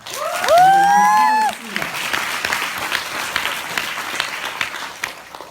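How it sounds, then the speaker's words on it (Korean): A seminar audience breaks into applause, with a loud voice on a microphone over the first second and a half, then a steady patter of many hands clapping that fades slightly toward the end. "여러분을 위해서 박수 부탁드립니다"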